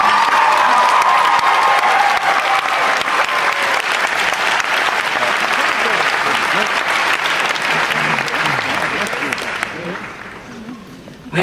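Loud, sustained applause from a large graduation crowd, steady for several seconds before fading away near the end.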